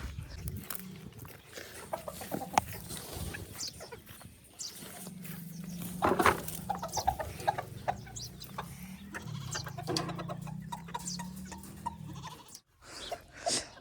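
Chickens kept indoors in a room, clucking and calling in a dense, continuous chorus at close range, with scattered sharper squawks and rustling, and one louder burst near the middle.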